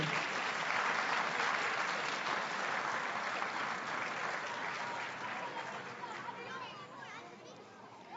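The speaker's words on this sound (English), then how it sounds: "give her a round of applause as well" A crowd at a Martin Luther King Jr. birthday celebration applauds a choir leader with sustained, dense clapping that gradually thins and fades, while children's voices and chatter rise underneath toward the end.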